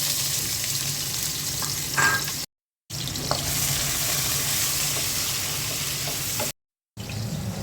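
Chopped onion fries in hot oil in a pot for chicken curry, a steady close sizzle with faint stirring clinks, running throughout apart from two brief gaps of silence.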